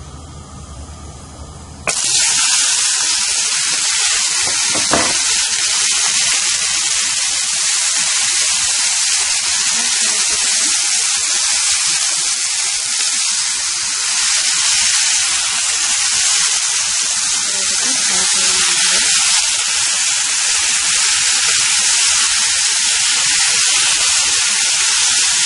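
Tomatoes hit hot oil in a pan for chutney, and a loud, sudden sizzle bursts up after a quieter start, then holds as a dense, continuous hiss close by.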